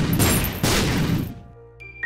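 Two loud, crunching blasts from a troll bomb in The Binding of Isaac: Afterbirth+, one right after the other, then the noise cuts off into a quiet electronic chime and tonal jingle.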